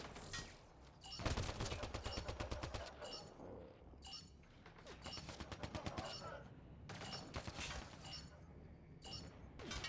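Rapid bursts of automatic gunfire in the Mass Effect video game, several loud volleys in quick succession with short gaps between them, crackling over a busy battle backdrop.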